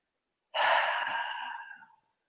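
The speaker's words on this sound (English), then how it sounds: "And then slowly exhale fully" A single slow, full breath out during a yoga breathing exercise, close and clear, with an airy hiss that starts strongly and gradually fades over about a second and a half before stopping.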